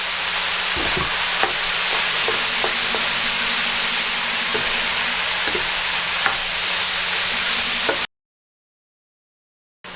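Cauliflower stir-frying in a hot pan for fried rice gives a steady, loud sizzle with scattered clicks of stirring, running about eight seconds before cutting to silence.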